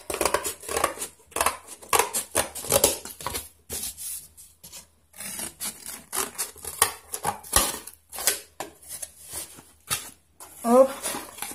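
Cardboard being cut for a scrapbook album cover, with repeated short snipping and rubbing scrapes in irregular bursts, close and moderately loud, while a person talks over it.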